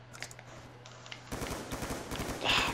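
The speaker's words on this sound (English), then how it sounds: "God, I hate the M16's fire rate. It's pretty piss poor." Rapid automatic M16 rifle fire in a Call of Duty zombies match on the Nacht der Untoten map, a quieter sustained tone giving way to a louder, dense burst of shots in the second half, with brief voice fragments mixed in.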